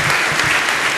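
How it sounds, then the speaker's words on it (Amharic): Steady, dense clapping from a church congregation fills the whole moment, loud and continuous with no voices over it. "በጣም አጨብጭቡ ለእግዚአብሔር ክብር"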